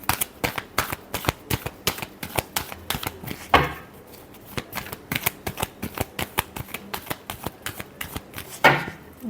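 Tarot cards are shuffled in quick, rhythmic bursts of riffling clicks, close and crisp, with two louder snaps where the deck is squared between rounds.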